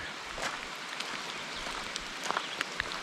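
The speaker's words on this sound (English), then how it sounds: "Yes, it's still raining. In fact, it's raining harder, which kind of sucks." Rain falling steadily during a solo ride outdoors, a constant diffuse hiss with scattered close drop taps and patters, growing slightly busier toward the end, with no talking.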